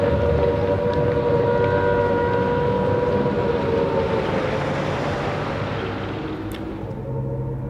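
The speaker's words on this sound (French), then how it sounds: "Peu après l'annonce de la guerre, les sirènes se mirent à mugir à travers Londres." Air raid sirens wail across London at the outbreak of war, a loud sustained rising and falling tone that slowly fades, with no voices.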